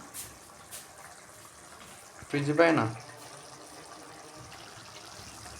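Water is poured into a pan of cooked onions, a brief close splash lasting under a second amid quiet background and a speaking voice.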